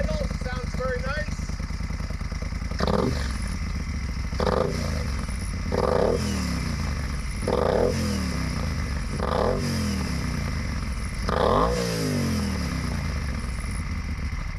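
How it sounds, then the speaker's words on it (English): A Moto Guzzi Stelvio twin fitted with a Zard slip-on exhaust, the dB killer in place, idles with a deep, loping thump, then gets several short, sharp revs that rise and fall at close range. "we're going to start up the MOTO GUZZI STELVIO right now, and as I mentioned, I put the Zard slip-on exhaust"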